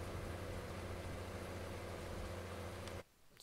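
A tractor engine idles in Farming Simulator 2019 as a steady, dense low drone with a broad hiss, holding even for about three seconds before cutting away to near quiet.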